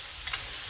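Onions and peppers for fajitas hiss and sizzle on a hot Blackstone griddle, a steady close crackle with a quick scrape as they are stirred.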